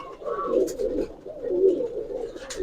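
Giribaz pigeons coo close by in soft, rolling, repeated phrases, with a short pause between two bursts and no talking.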